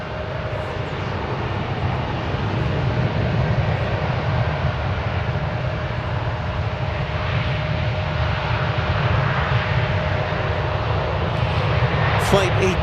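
Boeing 737-800 airliner departing DFW Airport on its way to Fresno, a loud, steady jet engine rumble held throughout with broadband roar, with faint radio chatter underneath.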